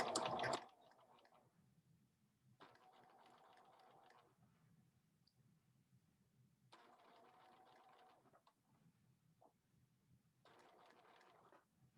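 Sewing machine stitching close to the edge of a thick fabric pleat in short separate runs, whirring for a second or two at a time with quiet pauses between, fairly soft and close.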